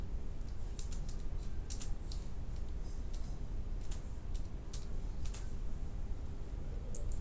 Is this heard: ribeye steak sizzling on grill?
no